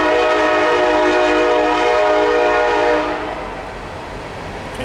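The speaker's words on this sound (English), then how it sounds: "Kansas City Southern Railroad." Kansas City Southern Railroad freight train heading east toward New Orleans, its horn sounding loud and steady with layered tones over rolling wheel rumble, then the horn dropping away as the train rumbles on.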